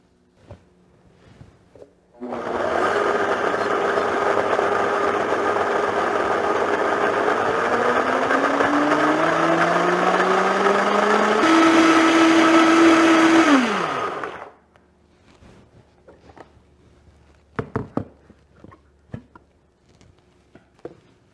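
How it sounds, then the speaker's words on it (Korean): Kitchen blender grinding about 100–150 g of chopped mugwort for sweet brown rice bugumi, a loud steady whir that runs for around twelve seconds, rising in pitch as the load frees up, then cuts off, leaving quiet clicks and handling. "가능하면 이 쑥도 좀 잘게 썰어서 넣어야 믹서기에 무리가 안 가거든요"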